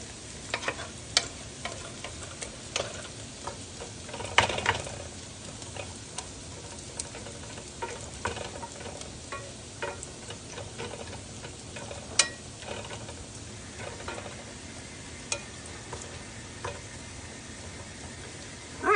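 Meat and onions for a frittata frying in a pan over raised heat, a steady low sizzle with scattered sharp ticks and pops, close up and with no talking.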